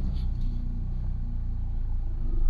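A cheap old Mini car bought for £150, its engine giving a low, steady rumble from inside the cabin that swells slightly louder toward the end as it starts to be driven.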